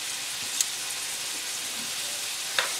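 Chopped ingredients for Savannah red rice cook in a casserole dish, giving off a steady, even sizzling hiss with a couple of faint clicks and no talking.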